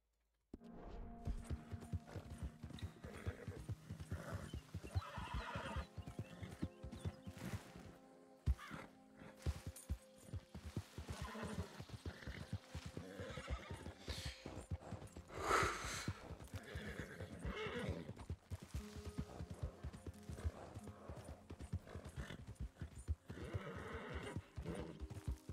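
Horse in Red Dead Redemption 2 whinnying and clip-clopping at a steady trot, hoofbeats continuous and fairly close with occasional neighs, game ambience underneath.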